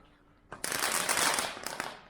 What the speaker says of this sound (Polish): A te petardami nawalają.